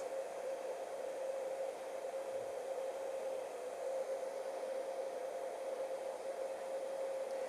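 Heat gun warming Kydex holster material: a steady, faint blowing whir with a constant hum, unbroken throughout and with no voices.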